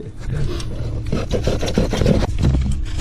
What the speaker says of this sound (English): we're going to take the hacksaw and cut it off to the end of the coupling right here